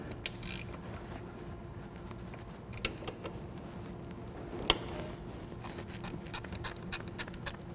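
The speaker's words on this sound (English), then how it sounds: "So now we're going to remove the drain plugs. We're just going to break them loose." A wrench loosens the oil drain plugs on an Indian Scout motorcycle, giving faint, sparse metallic clicks and a brief ratcheting patter over a quiet workshop background.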